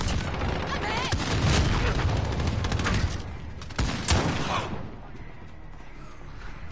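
Gunfire in a shooter video game, with rapid bursts and sharp shots crackling loudly for several seconds before thinning out into quieter scattered noise.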